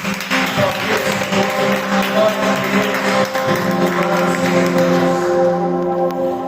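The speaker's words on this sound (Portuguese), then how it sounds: "Vamos aplaudir Jesus." A church congregation applauds during a worship service, a continuous patter of many hands over sustained musical tones, fairly loud and close throughout.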